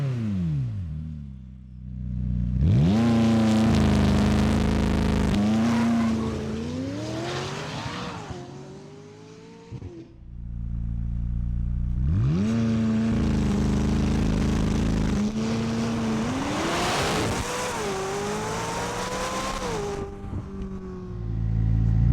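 A 2020 McLaren 600LT Spider convertible sports car accelerates hard twice, its engine climbing through the gears with rising, rasping pitch and shift breaks, loud and close with a brief lull between runs and no talking.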